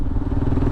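A Kawasaki KLR motorcycle cruising on a highway, giving a steady, loud, close engine drone with a low rumble and some rattling clatter.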